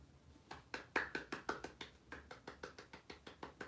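A quick run of light hand claps, about a dozen and a half soft, close slaps in a steady rhythm, quiet and alone.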